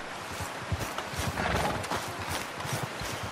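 Horse hooves galloping at steady rhythm in Red Dead Redemption 2, continuous clip-clop beats with occasional snorts and game ambience throughout, fairly loud and close.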